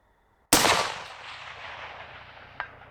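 A single rifle shot fired at night toward a target 500 yards away cracks sharply and loud, its report rolling off into a long fading echo, followed by a faint distant impact.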